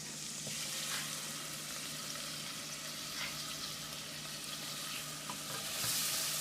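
Flour being stirred into a roux in a pot for spicy corn chowder, a steady soft sizzle with scraping strokes of a spoon, close and continuous with no talking.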